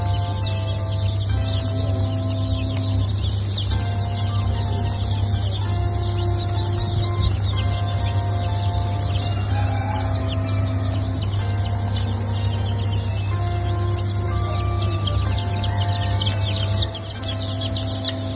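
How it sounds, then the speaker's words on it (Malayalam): Dozens of newly hatched Kadaknath black chicken chicks peep constantly at a hatchery, a dense high chorus of chirps carrying on without pause over a steady, loud machine hum. "കടക്കനാഥ് കരിങ്കോഴി കുഞ്ഞുങ്ങളാണ്."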